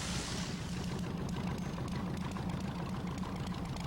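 A homebuilt aircraft engine runs during a slow-speed taxi, a steady, loud, rumbling drone that stays even throughout, with a brief brighter hiss at the start.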